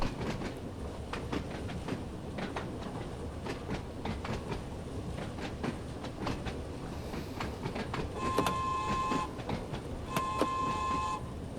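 A train whistle in Train Sim World's Isle of Wight line sounds two steady tones near the end, over continuous rail rumble and rhythmic clickety-clack of wheels on track, with no speech.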